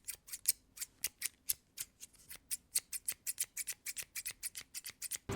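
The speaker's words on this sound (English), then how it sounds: "I'm gonna go get my hair cut." Scissors snipping hair during a salon haircut, a rapid run of crisp, close metallic snips in a fairly even rhythm, faint but clear against quiet surroundings.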